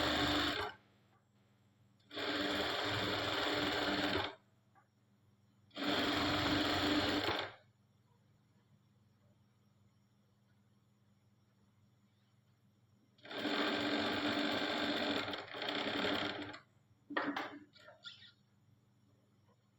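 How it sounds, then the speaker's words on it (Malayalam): An electric sewing machine stitches fabric in three or four separate bursts of a few seconds each, a loud close whirring run that starts and stops abruptly, with quiet gaps in between and a short stuttering burst near the end. "ആ ലൈനിൽ തന്നെ സ്റ്റിച്ചിങ് ചെയ്തുകൊണ്ട് വരാൻ പറ്റും."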